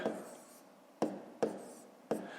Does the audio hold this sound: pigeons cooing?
no